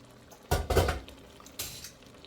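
A utensil scrapes and knocks against a pot while melting cheese for mushroom Swiss pasta is stirred, giving two or three close clattering strokes between quieter moments.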